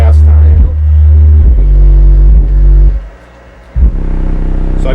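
Deep, booming bass from a car subwoofer powered by a Bass Rockers Z3K1 amplifier, loud sustained low notes pulsing in bursts with a brief drop near the end before kicking back in.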